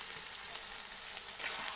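A soft, steady sizzle of a bay leaf frying in mustard oil for a spinach and poppy seed dish, with faint crackles and a slightly louder spit near the end.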